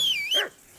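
A dog in the video game Kingdom Come Deliverance 2 gives a single short, high-pitched bark or yip, close and clear, with no talking over it.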